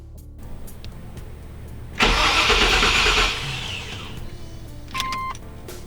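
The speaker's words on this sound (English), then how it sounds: "I replaced it with a Jegs high torque mini starter" A Chevrolet S10 engine cranks on a new Jegs high torque mini starter, a loud burst of roughly one and a half seconds of whirring turnover that settles into a quieter running hum with a brief chirp near the end.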